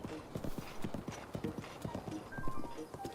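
Horse hooves galloping in the video game Zelda Breath of the Wild. Quick, regular clip-clop beats on the ground keep up throughout, with faint chimes near the end.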